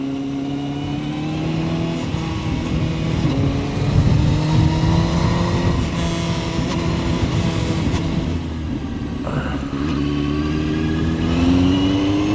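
CF Moto 750SR-S motorcycle being ridden, its engine droning loud and close with rising and falling revs and a brief dip before pulling again, no talk over it.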